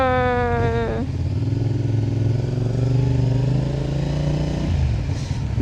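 A CFMOTO 450SR motorcycle engine idles and runs steadily up close, its deep rumble rising and falling slightly, with a brief rev shift near the end.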